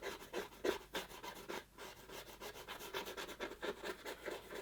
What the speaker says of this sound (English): So I scrape this part.